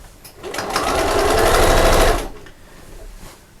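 A sewing machine runs close and loud as it stitches a seam on a sewing machine cover, a fast steady mechanical whir lasting about two seconds. It then stops, leaving a quiet room with no talk.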